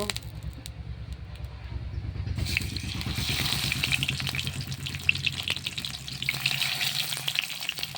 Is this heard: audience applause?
no